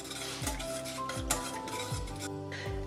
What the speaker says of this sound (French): je fouette constamment sur feu moyen jusqu'à temps que la crème épaississe